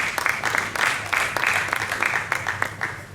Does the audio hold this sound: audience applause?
yes